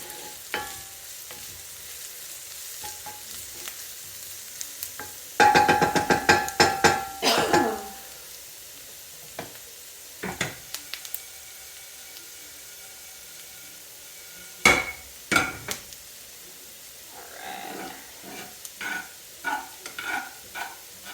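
Greens sautéing in a pan with a green pea sauté, a quiet low sizzle interrupted by bursts of clattering stirring and pan scrapes, plus a cough, with no speech.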